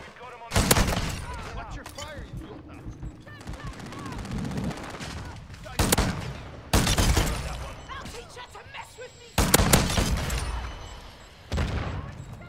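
Loud bursts of video game gunfire, including shotgun blasts, come in several separate volleys with short gaps, mixed with game noise and occasional talk.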